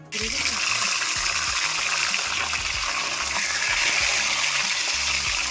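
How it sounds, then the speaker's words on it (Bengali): Pointed gourds (potol) dropped into hot oil in a pan, a sudden burst of loud, continuous bubbling sizzle that holds steady and close, with a voice faintly underneath. "তেল গরম হয়ে গেছে এবার আমি পটল ছেড়ে দেবো"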